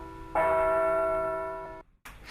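A single church bell strikes once in a rural village, ringing out with a long sustained tone that slowly decays before cutting off, followed by a brief burst of other sound.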